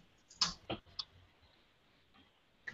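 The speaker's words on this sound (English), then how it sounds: "let me type this in" A handful of sparse, quiet keystrokes on a computer keyboard, spaced irregularly with a longer pause before a last tap, in an otherwise hushed room with no talking.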